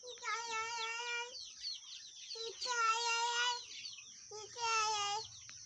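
Chickens in a two-storey poultry coop, desi hens below and broilers above, give three drawn-out, tonal calls close by, each lasting about a second, separated by short quieter gaps.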